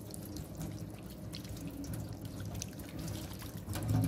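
Tap water runs steadily while hands are rinsed clean after soaping, a continuous close splashing stream with no talk over it.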